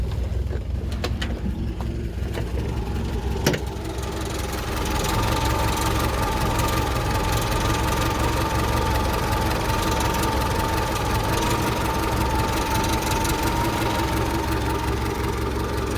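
A UAZ 469 engine starts and settles into a steady, rough idle, a continuous low rumble with a slight knocking throb that runs throughout.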